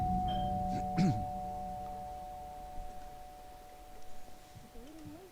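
A two-tone doorbell chime rings inside a video game, a brief bright ding-dong near the start over a steady low hum and faint game ambience, followed by quieter background sounds.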